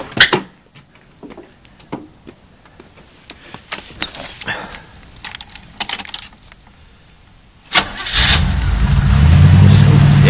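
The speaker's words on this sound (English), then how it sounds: "I'm going to go ahead and fire it up and see what it sounds like." A 1978 G-body with a 403 engine cranks and fires up near the end, rising to a loud, steady roar after several seconds of clicks, clunks and taps.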